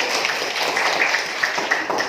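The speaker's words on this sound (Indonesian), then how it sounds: "tepuk tangan dulu buat Londi." Scattered clapping from a group of children in a classroom rings out, light and uneven, blended with a noisy room murmur.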